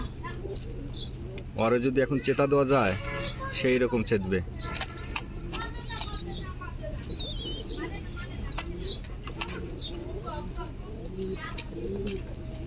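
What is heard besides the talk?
blue satin pigeons cooing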